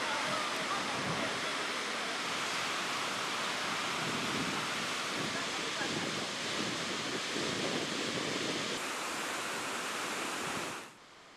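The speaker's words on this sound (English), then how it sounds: "Godafoss, which means waterfall of the gods." Godafoss waterfall in Iceland roars as a continuous, heavy broadband rush of falling water, loud and unbroken, cutting off abruptly at the end.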